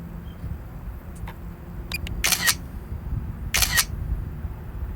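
Camera shutter clicks from a DJI Mavic Air 2 drone: a few light ticks, then two crisp, bright shutter snaps about a second apart, fairly close over low steady background noise, with no talking.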